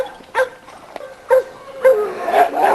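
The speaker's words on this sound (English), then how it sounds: "This little dog here is the third and last dog out of the litter of the dogs that we kept" Several short, sharp yips from a small dog come in spaced bursts, loud and close, with quieter whimpering in between and no talk over them.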